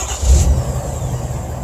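A Ford F350 dually pickup starts with a brief low crank and catch, then settles into a quiet, smooth low idle close by, with very little exhaust note.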